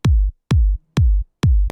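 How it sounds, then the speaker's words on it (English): Four punchy kick drum hits on a steady four-to-the-floor pulse for a dance pop beat, deep, loud and close, with silence between beats. "The kick drum is just really simple, 4 to the floor."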